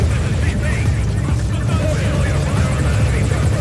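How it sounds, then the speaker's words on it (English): Helicopter in the video game Metal Gear Solid V: Ground Zeroes, a loud steady rotor thrum and engine drone running continuously close by, with voices speaking over it. "I'll mark the threat with the chopper's searchlight"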